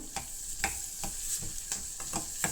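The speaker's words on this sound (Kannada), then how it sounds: "ಇವಾಗ ಬೆಳ್ಳುಳ್ಳಿ ಪೇಸ್ಟು ಒಂದು ಅರ್ಧ ಟೀ ಸ್ಪೂನಷ್ಟು ಬೆಳ್ಳುಳ್ಳಿ ಪೇಸ್ಟ್ ಹಾಕ್ಕೊಳ್ತಾ ಇದ್ದೀನಿ ಅದು ಕೂಡ ಚೆನ್ನಾಗಿ ಫ್ರೈ ಆಗಬೇಕು" Garlic paste frying in oil for a mixed-vegetable fenugreek-leaf pulao, with a quiet steady sizzle broken by regular scrape-and-stir strokes of a spoon roughly every half second, near and with no voice.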